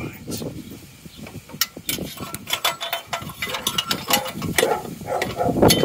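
Ratchet spanner tightening bolts while reassembling a Mazda MX-5 after a coolant leak repair, giving bursts of quick metallic clicks that come close and fairly loud in irregular runs, with some workshop handling noise between.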